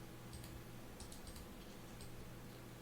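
Fingers tapping keys on a computer keyboard, a short run of light, quick clicks sitting faintly over a steady background hiss.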